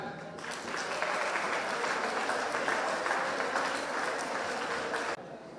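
A school audience at a motivational awareness programme for tenth-class students applauds a female teacher, with steady, dense clapping that swells quickly, holds for about five seconds and then drops off abruptly.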